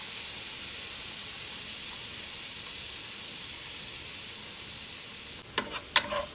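Crushed onion and ginger garlic paste frying in a pan, a steady loud sizzle with a bright hiss throughout, broken near the end by a few quick stirring scrapes.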